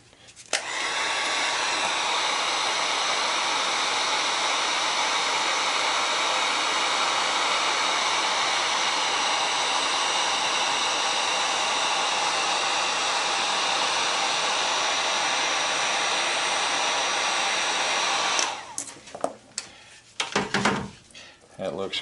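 A heat gun set on high roars in a loud, steady blast for about eighteen seconds while shrinking heat shrink tubing on a Ryobi 12 volt battery charger repair, then cuts off into handling noises.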